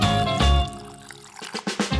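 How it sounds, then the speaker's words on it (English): A warm blue-tinted liquid mixture is poured into a rubber shell mold, with a splashy rush of liquid at first, then a quieter trickle and a few dribbles near the end. "Carefully pour the mixture into the mold."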